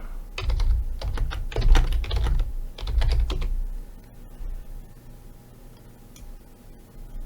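Quick bursts of typing on a computer keyboard, clustered clacks for about three seconds, then a quiet hum with a faint stray tap.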